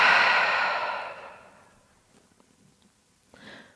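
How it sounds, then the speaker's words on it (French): A long, deep exhale streams out close to the microphone during a yoga session, loud at first and then fading away, followed by a soft, brief inhale near the end. "On inspire pour ouvrir la poitrine. Et on expire pour presser les côtes vers le sol."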